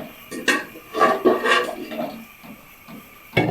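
A hot tawa griddle is lifted and swapped on a stove while ghee-roasted dhinde cook over a low flame, giving a few sharp metallic clanks and knocks spaced through quiet kitchen background.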